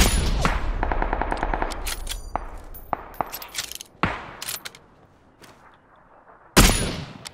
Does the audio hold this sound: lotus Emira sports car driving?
no